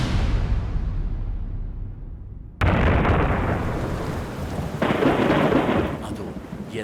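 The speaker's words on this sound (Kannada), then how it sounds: "ಅದು ಯಾವಾಗ್ಲೂ ಬರೋ ಮಳೆಯಾಗಿರಲಿಲ್ಲ, ಅದು ಪ್ರಳಯಾಂತಕ ಮಳೆಯಾಗಿತ್ತು" A thunderstorm with heavy rain: a rolling thunder rumble fades, then a sudden loud crack bursts in, followed by a dense, roaring downpour that swells again later, close and loud throughout.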